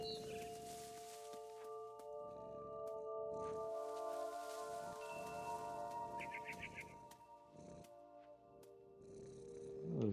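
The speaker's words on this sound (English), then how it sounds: "it's weird hearing this purring" Cat purring in the video game What Remains of Edith Finch, a steady low rumble running the whole time beneath game music and ambient sounds.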